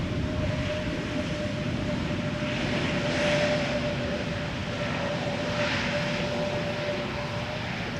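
A fixed-wing airliner lands on the Polderbaan runway at Amsterdam Schiphol in sunny weather, a loud steady engine roar with a faint whine that swells slightly in the middle and then holds.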